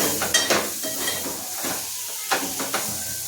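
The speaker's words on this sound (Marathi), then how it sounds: "आता हे सगळं मिक्स करून घ्यायचं" Stirring a tomato mixture in a cooking pan for an egg curry, with a soft sizzle and scraping strokes that come in short bursts, close by, and no talking.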